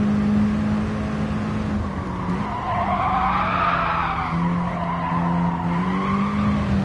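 Front tyres locking up under braking in the racing game GT Sport, a continuous loud skidding squeal with a wavering pitch held over steady engine drone for the whole stretch.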